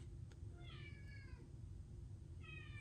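A pet cat named Han Solo meows twice in the background, soft drawn-out calls set apart by a pause, faint against a quiet room hum with no talking.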